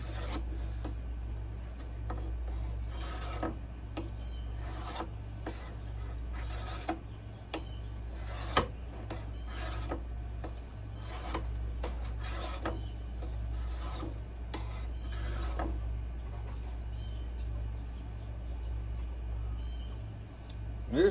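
A knife blade is worked against a finer grit abrasive in repeated rasping strokes, close and moderately quiet, over a steady low hum with no talking.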